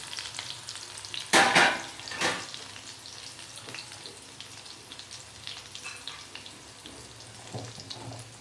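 Fish pieces frying in hot oil, a soft steady sizzle with a couple of louder clattering stirs near the start, heard close and fairly quiet.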